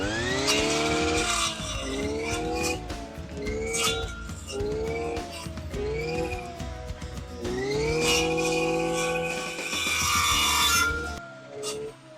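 An Echo SRM-410U brush cutter engine revs hard at full throttle, its loud two-stroke whine rising and falling in repeated surges as it bites into cutting, then cutting off near the end.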